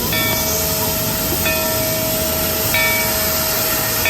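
A wooden roller coaster train at Knott's Berry Farm runs past on its track, a continuous loud rumble with a steady tone and regular clacks recurring about every second and a half.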